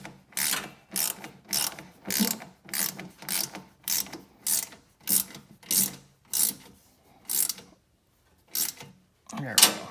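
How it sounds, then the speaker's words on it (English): A small ratchet wrench clicks in quick bursts while tightening bolts on a Springtail rear-door folding table MOLLE panel on a Jeep Wrangler JL, about a dozen close, sharp, evenly paced strokes separated by brief pauses. "we're going to use our little ratchet wrench to get the final tightening in"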